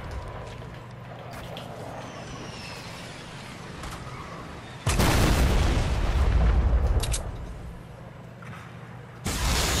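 Gunfire aimed at the player in a battle royale shooter game, heard as loud bursts of booming shots that surge in over a steady background rumble, with another burst starting near the end.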